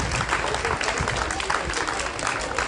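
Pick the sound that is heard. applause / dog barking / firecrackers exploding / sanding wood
applause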